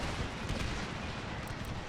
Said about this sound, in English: time to order my cannons to hold fire